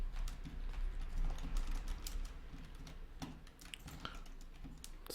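Quiet keys being struck on a computer keyboard as an app name is typed, scattered clicks in short irregular runs with soft background noise and no talking.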